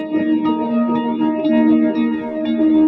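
A sustained, steady tone sounds thick and shimmering, as if two slightly detuned copies play together, with a chorus-like wobble.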